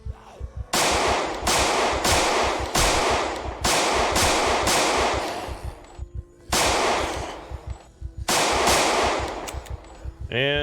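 Gunfire from guns in the zombie survival game Project Zomboid: loud, rapid bursts of automatic fire repeated about six times with short pauses between, close and dominant with no talk over it.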